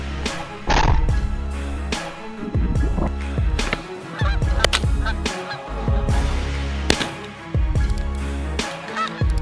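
Wild geese in a coastal plains hunting region give loud, repeated honking calls that overlap in a dense flock chorus, sounding close with no voices.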